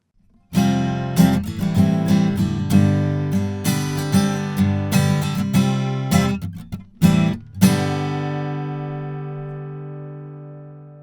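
Lava ME 4 guitar with a solid spruce top and HPL back and sides, strummed in bright full chords with rhythmic accents and a couple of sharp choked stops. A last chord rings out and fades slowly.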